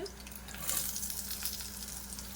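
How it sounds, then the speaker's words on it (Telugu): Dried red chilies fry in a pan with a steady, close, crackling sizzle, with bright spitting pops that rise midway and hold at a soft level, with no talk. "ఇదిగోండి ఎండుమిర్చి అనేది బాగా ఫ్రై అవ్వాలి"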